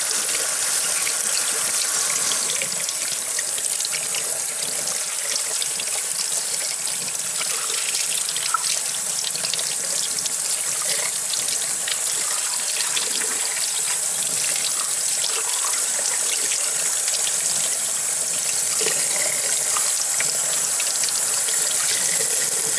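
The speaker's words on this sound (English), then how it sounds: "Give it a little rinse. Get all that mud out of there." Water gushes steadily from a hose or tap, rinsing mud out of an EVAP part from a Nissan Rogue, a constant close splashing hiss with no talk.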